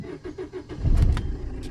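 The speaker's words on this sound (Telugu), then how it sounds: "ఇంజిన్ అయితే స్టార్ట్ చేశాను ఫ్రెండ్స్." A Maruti Suzuki Ciaz car engine starting up close: a few quick starter cranks, then a loud catch as the engine fires and settles.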